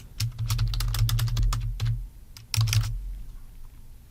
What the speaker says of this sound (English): Now I've typed this prompt in here